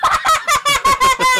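Rooster crowing in The Climb 2 VR game, a loud repeated series of six or seven short harmonic squawks in a steady rhythm, close and alone.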